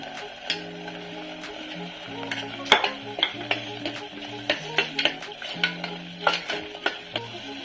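Onion paste with curry leaves frying in a pan for mutton curry, with steady sizzling under a spoon scraping and stirring in irregular knocks, close and moderately loud, no talking.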